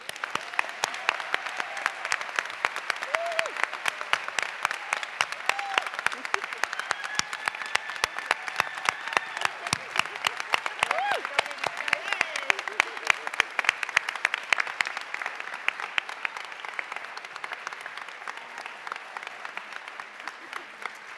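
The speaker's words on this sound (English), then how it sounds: "let's just give this newly sworn in Board of Supervisors a big round of applause again" A county audience gives a long, steady round of applause for a newly sworn-in Board of Supervisors at an oath of office ceremony, with dense clapping continuing for about twenty seconds in an indoor hall.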